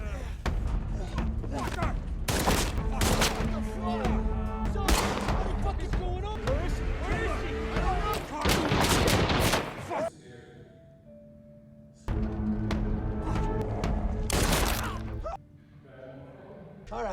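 Gunfire in a film scene about a trafficking ring: repeated sharp shots and impacts amid loud action noise and music, with voices heard briefly between bursts.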